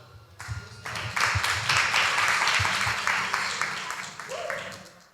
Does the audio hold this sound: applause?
yes